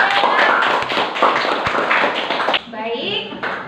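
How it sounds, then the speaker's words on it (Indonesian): Children in a classroom clap their hands together in a quick burst of dense, close claps lasting a few seconds, then fade into murmuring young voices. "Oke, tepuk tangan dulu."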